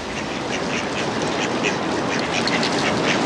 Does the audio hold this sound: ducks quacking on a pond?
yes